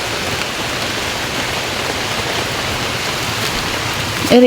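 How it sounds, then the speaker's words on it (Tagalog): Steady rain falls outdoors, a dense, even hiss of drops close by throughout, with a brief bump of handling at the very end. "Naulan po"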